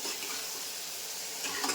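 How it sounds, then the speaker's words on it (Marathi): Chicken gravy fries in a pan on the stove, cooked directly without a pressure cooker, giving a steady, close hiss of oil and gravy that rises slightly near the end, with no voices. "चांगले 15 मिनटं मी फ्राय करून घेणार आहे, तेल सुटेपर्यंत, शिजेपर्यंत"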